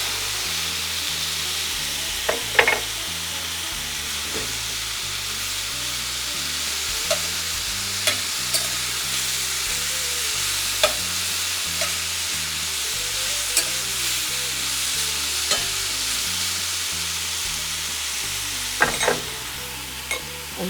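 Steak bites frying in a pan with butter and minced garlic, a steady close sizzle running throughout, broken by occasional utensil scrapes and taps while stirring, no speech.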